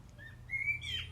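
A pet bird snacking on shredded wheat crumbs gives a couple of soft, thin whistled chirps, faint and close, in a quiet room with a low background hum.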